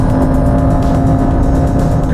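A Jaguar sports car cruises at over 200 km/h, a loud steady engine drone with a constant tonal hum and wind and road roar, continuous and close throughout.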